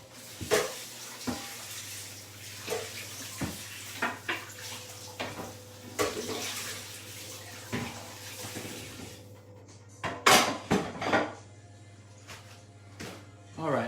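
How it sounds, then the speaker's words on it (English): Water runs over a wooden chopping board in a kitchen, with clattering knocks and clunks of handling, and a brief louder splash near the end. "since this is a nice wooden chopping board, I'm just gonna give it a quick rinse"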